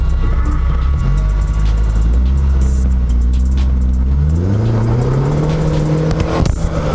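A car's engine starting and revving while the car sits raised on a lift, the pitch dropping and then sweeping back up in loud, close revs as the gear goes in.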